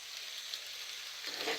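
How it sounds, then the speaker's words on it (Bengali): Taro leaves and potato frying in hot mustard oil, a steady, close hiss of sizzling that grows a little brighter near the end. "আমি একটু ভেজে নেব 2-3 মিনিট"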